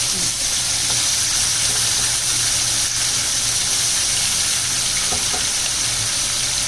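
Chicken leg pieces, marinated for half an hour, frying in oil over medium heat for a village-style gaawti chicken, giving a steady, dense sizzle throughout with no talking.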